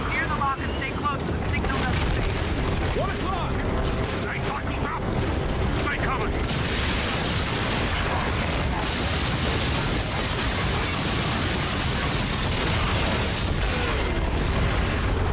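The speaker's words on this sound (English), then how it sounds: "It's like there's an explosion coming from somewhere." Explosions boom through a battle in the Call of Duty: Infinite Warfare campaign, with dense, continuous rumbling and crackling combat noise staying loud for the whole stretch.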